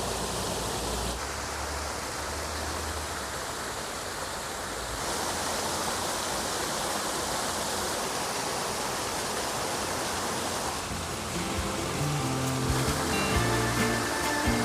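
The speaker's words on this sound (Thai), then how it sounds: "ก็เป็นลำธารไหลเอื่อยไป" Steady broadband rush of flowing water, like a stream running continuously nearby, with no voices and a slight shift in texture toward the end.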